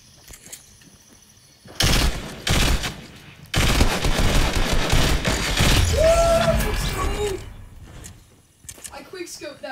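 Gunfire in a shooter video game with pistols and RPGs: two short bursts early on, then a long, dense stretch of rapid shots and blasts, with a voice talking over the fighting.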